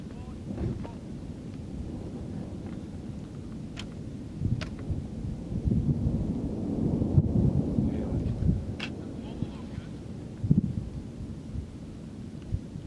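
Low rumbling thunder rolls through a Dutch thunderstorm with near-constant lightning, mixed with wind buffeting the microphone; several deeper surges swell and fade, and a brief louder crack comes near the end.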